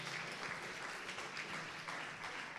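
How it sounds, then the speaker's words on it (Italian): Audience applause in an Italian television studio during a school quiz show, steady dense clapping filling the whole stretch at moderate volume with no voices over it. "Un applauso."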